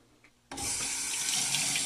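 A kitchen tap suddenly opens and runs steadily, a loud continuous gush of water close by during straight razor honing on sharpening stones, with no voices over it.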